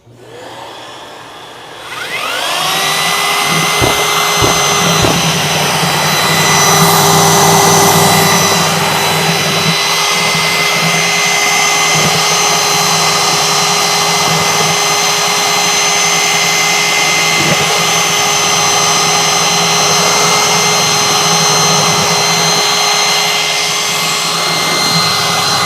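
A shop vacuum runs steadily while leveling compound is mixed for subfloor prep, a loud continuous whine and roar with a strong harmonic hum that starts after a brief quiet moment and holds without talk.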